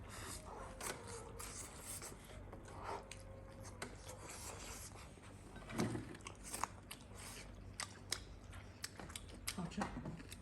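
Crispy pan-fried dumplings, crunchy outside and tender inside, being bitten and chewed close to the mic, with soft crunching and mouth noises over a steady background hum.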